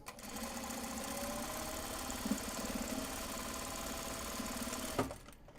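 A sewing machine stitches Japanese fabric into large box bags, running in a steady, fast mechanical whir for several seconds before stopping with a short clunk.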